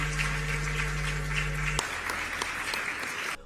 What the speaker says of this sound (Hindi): तुरंत तालियां बजने लगीं